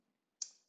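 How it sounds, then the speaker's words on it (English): A single crisp key click from pressing the tab key on a computer keyboard while typing in a notebook, one short sharp tap with a quick decay, close and quiet, alone in a silent room. "as I click tab"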